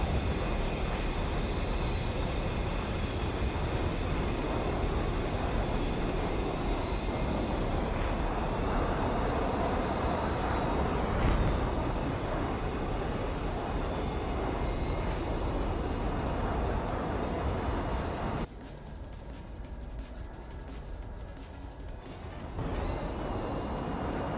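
Jet aircraft in War Thunder, a continuous engine roar with a high whine that drops away sharply near the end before returning, loud and steady, no talk.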